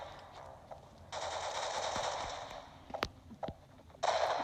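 Automatic gunfire from the Roblox shooter Arsenal: loud sustained bursts of rapid shots, broken by a few sharp single cracks, then another burst at the end.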